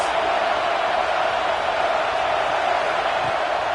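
Football stadium crowd at a Notre Dame versus Stanford game, a steady, dense roar of many voices filling the stands, sustained and even throughout without distinct cheers or peaks.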